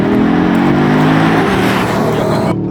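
Audi RS3 8Y under launch control, its engine roaring loud and close as revs climb sharply in a short, hard burst before cutting off abruptly.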